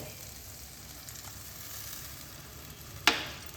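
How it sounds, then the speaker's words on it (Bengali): Chopped tomato frying with spices in oil for a Bengali katla fish curry, a faint low sizzle throughout, then a single sharp clatter near the end, close and without speech. "টমেটোর কাঁচা গন্ধ না যাওয়া পর্যন্ত এই মশলার সঙ্গে আমি কষাতে থাকব"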